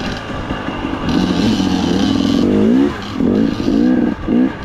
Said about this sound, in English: Riding a KX100 up here in the